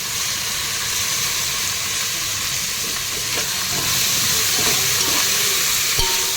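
Coriander and mint frying in a pan for vegetable rice, a steady loud sizzle and hiss throughout, with a few soft stirring knocks near the end.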